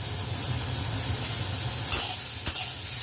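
Cut potato pieces frying in a pan with a steady close sizzle and a few scraping stirs, loud and continuous throughout.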